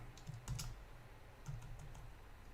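Keys on a computer keyboard clatter as a password is typed in two short bursts of quick clicks, close and fairly quiet, with a pause between.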